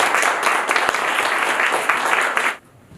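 Applause from a church congregation at a Sunday worship service, welcoming a counseling center director to the front; steady, dense clapping fills the room for about two and a half seconds, then cuts off abruptly into quiet.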